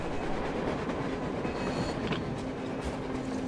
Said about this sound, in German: Doch, Anna, das ist ein Zug.